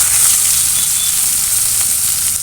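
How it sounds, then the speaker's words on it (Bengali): Chopped onions sizzle loudly and continuously in hot oil, fried crisp for biryani, with a dense hiss and no talking. "আমি এখানে পেঁয়াজ কুচি দিয়ে দিলাম"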